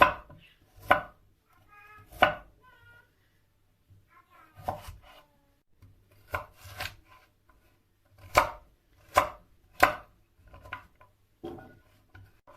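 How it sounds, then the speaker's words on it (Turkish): Sharp knife strikes on a cutting board, chopping vegetables in uneven bursts with pauses between, close and clear in a quiet room. "Sebzelerimizi doğrayalım."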